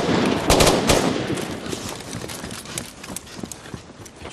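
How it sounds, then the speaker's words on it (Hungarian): Gunfire from a Hungarian-dubbed action film about special forces, with a dense burst of shots and clattering impacts near the start, then scattered sharper reports over a noisy, busy battle background. "Nem halljátok a lövéseket?"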